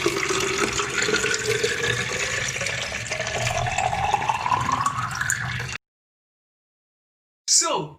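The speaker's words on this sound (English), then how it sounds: "Yes, it is a container being filled by water." A container fills with running water, the pitch rising steadily as it fills over about six seconds. The sound stops abruptly, and after a short silence a brief splash follows.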